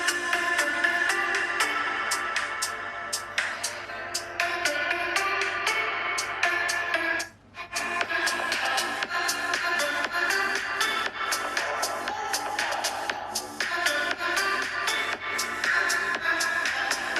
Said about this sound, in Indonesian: Untuk speaker Realme 8 Pro ada high-res audio di bagian bawah nih speakernya.